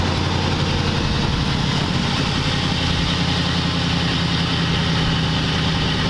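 A 1940 Ford convertible's engine idles steadily and loudly up close, with a smooth, even low rumble that holds unchanged throughout, no voices over it.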